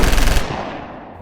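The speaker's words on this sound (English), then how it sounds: "Slow down with the gunshots, man." A loud machine gun sound effect fires a fast, dense burst that stops after a moment and leaves a rumbling echo fading away, with no talking.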